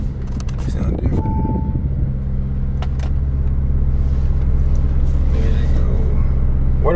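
Lamborghini Urus running in sport mode, a steady deep engine rumble and drone heard from inside the vehicle, holding low and constant with occasional clicks, while people talk over it at first.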